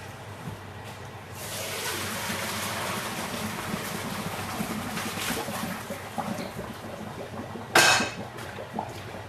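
Cooked pasta is tipped into a strainer, giving a steady rush and splash of pouring water over several seconds, then a brief clatter of the pot near the end, fairly quiet overall.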